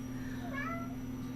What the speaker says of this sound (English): My cat just said hello.